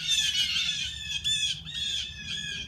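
Birds squawk in a few harsh, shrill bursts, one after another, moderately close and heard on their own with no talking.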